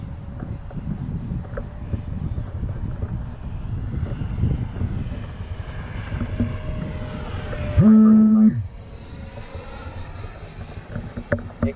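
An E-flite F-18 Hornet 80mm EDF RC jet with landing gear down makes an inverted pass, its ducted fan a steady rushing roar that swells toward the middle and eases off, cut briefly by a loud tonal beep.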